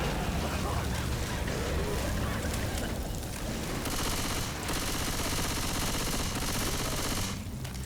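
An SMG submachine gun firing in the Left 4 Dead 2 video game, dense rapid bursts of gunfire crackling continuously over a busy game soundscape, loud and sustained.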